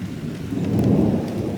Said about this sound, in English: As you can tell, we're getting a little rain.